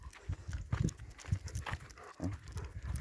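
A dog sniffs around outside at about 5am, its snuffling breaths and low muffled snorts coming in quick irregular bursts close by.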